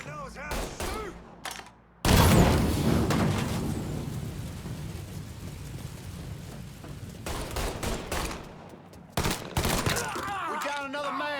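Gunfire in the Mafia 3 video game: a long, loud stretch of dense automatic shots and booming fire, with brief bursts and shouting voices before and after.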